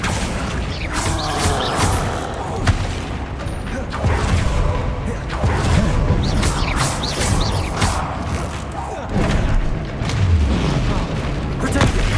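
Confringo fire spell blasts in Hogwarts Legacy, booming impacts and crackling bursts repeating over a dense, continuous game soundscape with creaking mechanical sounds.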